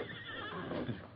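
A horse whinnies loudly and steadily in a radio drama sound effect, set outside a Western town with a watering trough, its drawn-out neigh filling the moment without any speech.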